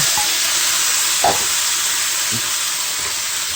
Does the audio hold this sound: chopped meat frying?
yes